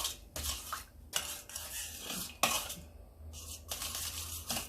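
A spoon stirs in a bowl of bread dough mixture, making a series of close clinks and scraping strokes against the bowl in an uneven rhythm, with no one speaking.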